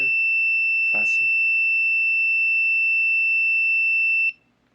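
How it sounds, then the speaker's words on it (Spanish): MAM-860 controller phase alarm, a loud continuous high-pitched electronic tone held steadily for about four seconds before cutting off, with a brief voice speaking over it. "vamos a borrar primero aquí la alarma esta del fase."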